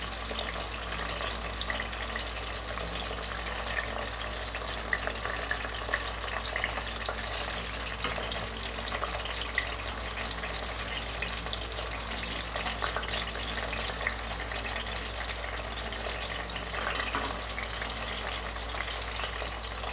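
Stuffed tinda (round gourd) frying in a pan, giving a steady, even sizzle with faint watery crackle throughout, close and moderately loud with no talking.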